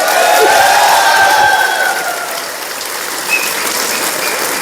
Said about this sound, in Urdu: یہ آپ نے تالیاں تو بجائیں